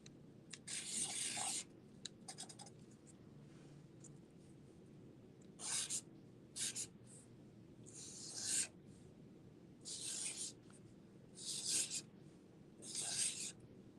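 A marker pen scratches across thin hymnal paper in short, separate bursts of rasping strokes with quiet pauses between them, close and fairly faint over a low steady background hum.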